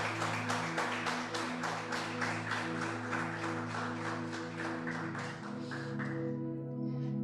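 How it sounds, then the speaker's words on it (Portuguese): A church congregation applauding during a worship service, with rhythmic unison clapping in regular beats over a sustained musical drone from instruments, fading toward the end. "Você pode aplaudir ao Senhor por isso?"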